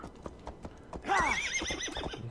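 A horse in Assassin's Creed Valhalla clip-clops with a few hoof steps, then lets out a loud, close, quavering whinny that trails off as the hooves continue.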